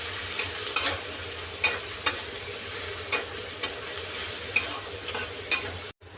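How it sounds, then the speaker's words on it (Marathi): Homemade onion-garlic masala being stirred into a sizzling pan of masale bhat with pigeon peas and masoor dal, repeated spoon scrapes over a steady frying hiss, close and clear, no voices. "ह्याला छान असं मिक्स करून घ्यायचं आहे आपल्याला"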